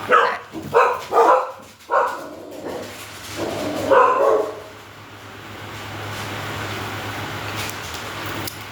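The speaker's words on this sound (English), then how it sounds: "you hear clearly they bark" Dogs bark close by in a quick series of sharp barks, then one more burst, followed by a low steady hum with faint background noise and no talking.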